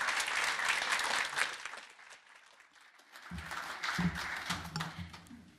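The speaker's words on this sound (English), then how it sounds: "A round of applause for everybody." A conference audience applauds a panel after a session on international and regional perspectives, with dense, sustained clapping that fades, then picks up again alongside a low murmur of voices near the end.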